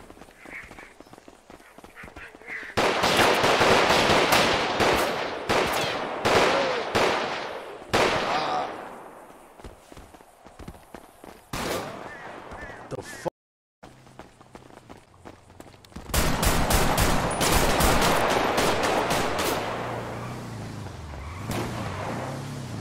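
Gunfire rings out in a GTA 5 roleplay shootout in North Philly. Loud bursts of rapid shots come in two clusters, separated by a quieter stretch with a brief dropout.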